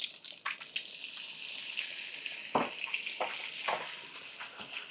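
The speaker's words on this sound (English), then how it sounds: "I'm going to get just a little bit of water in here now." Water splashed into a hot pan of frying eggs, a loud hissing sizzle with bursts of bubbling and crackle that swell and fade irregularly, no talking.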